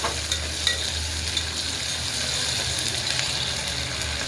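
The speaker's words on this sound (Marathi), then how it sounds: "कांदा छान असा फ्राय झालेला आहे आपला." Chopped onion fries with ginger-garlic paste in a pan for masale bhaat, making a continuous hissing sizzle, with light clicks from the stirring spoon and no talking.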